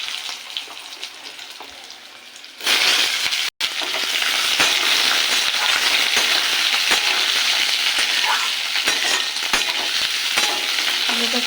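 Potato pieces hit hot oil in a pan already seasoned with bay leaf and cumin, and a sudden loud sizzle erupts that continues steadily with scattered clicks from stirring.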